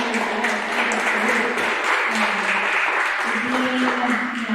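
Crowd at a county fair dairy cattle and dairy goat show giving a round of applause, loud and continuous with some voices mixed in.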